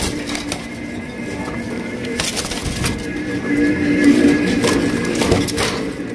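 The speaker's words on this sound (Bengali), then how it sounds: "একদম বিশাল বড় সাইজের ইন্ডিয়ান বোম্বাই কবুতর" Large Indian Bombay pigeons coo in low, repeated throaty calls within a busy setting of scattered knocks and background murmur, rising slightly midway.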